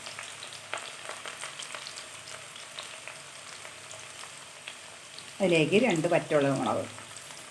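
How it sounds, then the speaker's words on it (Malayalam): Sliced shallots and dried chillies fry in oil while being stirred, a moderate crackling sizzle under a faint hum, with a person speaking briefly toward the end. "ഉള്ളി ഒന്ന് ചുവന്ന് വരുന്നത് വരെ ഒന്ന് ഇളക്കി കൊടുക്കണം."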